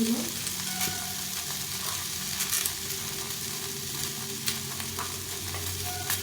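Bete greens frying with black cumin in a pan, a steady close sizzle with occasional spatula scrapes and small clinks, continuous for several seconds with no talking.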